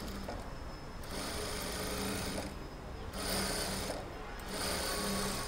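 Sewing machine stitching a silk blouse, a continuous dense buzzing whir that surges in short bursts with brief lulls between, close and fairly loud, no talking.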